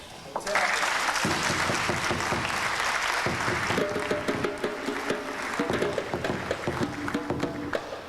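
A lecture hall audience applauds young people at a talk on the FBI and the Black community, sustained full clapping throughout while a voice speaks over it for much of the stretch.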